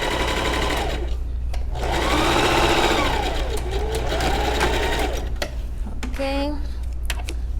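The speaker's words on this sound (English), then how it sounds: "Let me remove the card so it's easier for me to sew" A sewing machine stitches a fabric pouch bag, its motor running in a steady continuous whir with short pauses and restarts, up close and loud.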